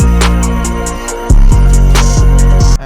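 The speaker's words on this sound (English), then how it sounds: "Then we have the second 808." Deep sliding 808 bass notes, following the root note, pulse under crisp ticking hi-hats in a looping electronic beat made in FL Studio, loud and up close.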